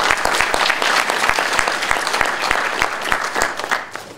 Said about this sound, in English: so if you can give her a round of applause.